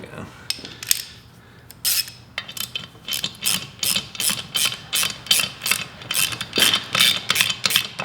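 A socket ratchet cranks a bolt down on a new cylinder head, a fast run of sharp metallic clicks in quick repeated bursts, close and fairly loud, with no talk.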